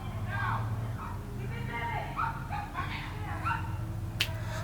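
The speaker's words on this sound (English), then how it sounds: "my neighbors and their dogs going crazy, yapping" Small dogs yapping in the distance, several short excited barks scattered over a low steady background hum.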